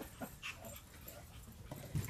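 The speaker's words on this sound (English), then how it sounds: "We've got all kinds of pups." Small puppies whimper and whine in short, soft cries, close but faint, scattered over about two seconds with light panting and movement in between.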